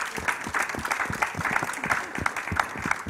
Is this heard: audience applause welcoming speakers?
yes